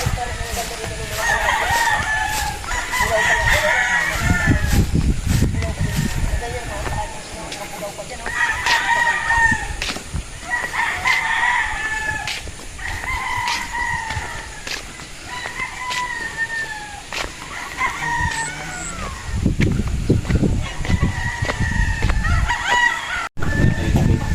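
Gamefowl roosters, battle stags and a golden boy trio, crow again and again in overlapping calls at moderate distance, with occasional clucks and some low rustling and handling noise between the crows.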